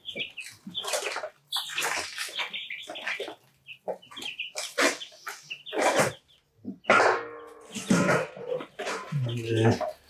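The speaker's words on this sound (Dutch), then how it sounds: "De haan die heeft bij ons meestal wel een naam, de andere niet." A rooster and hens cluck near and fairly loud, with repeated bursts of clucking and squawks across the stretch, while a person talks at times over the birds.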